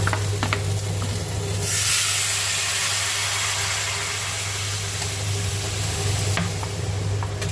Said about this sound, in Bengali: জল ঢেলে দেবো